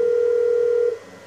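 A single steady electronic phone tone sounds during a call in the video game GTA 5, loud and continuous for almost a second before cutting off abruptly into quiet.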